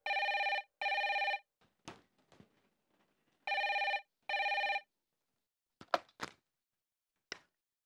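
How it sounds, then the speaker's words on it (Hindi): A telephone rings in two pairs of loud, sharp electronic trills, with a few knocks and thumps in between and after. "देखो किसका फोन है।"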